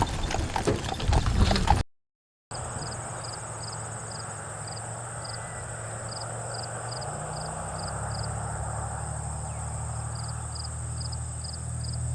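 Horse hooves clip-clop in a steady, even rhythm along a road on a wagon train ride, with insects chirping continuously in the background.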